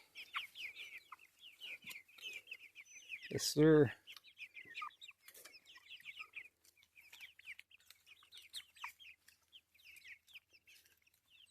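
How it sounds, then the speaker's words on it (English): Meat chickens cluck and chirp softly throughout, with one louder squawk near the middle, while a person speaks briefly in the background. "These are meat chickens here."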